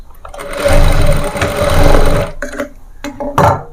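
A sewing machine runs a straight stitch along folded fabric for a sleeveless frock, with a steady motor hum that surges and briefly pauses before resuming in short bursts.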